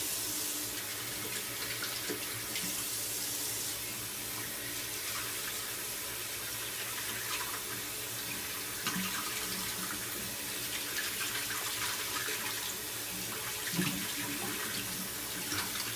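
Water runs steadily from a tap at a sink for rinsing during a wet shave, a continuous broadband hiss with a few faint clinks and no voices.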